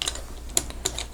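A space bar pressed on a Leopold FC660C Topre keyboard, heard as a few soft, close, rounded keystroke thocks spaced apart over a quiet background.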